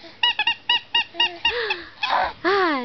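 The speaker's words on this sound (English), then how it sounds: "Tyler, where's your squeaky toy?" A baby's squeaky toy gives a quick series of short, sharp squeaks, then longer, wavering whistling squeals that rise and fall, loud and close with no talking.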